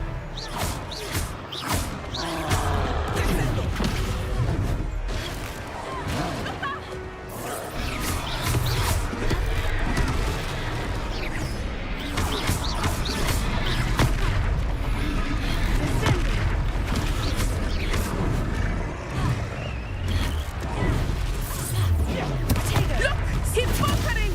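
Thuds, crashes and booming impacts from an Expelliarmus spell duel in Hogwarts Legacy, fairly loud and dense, mixed with game music and talking.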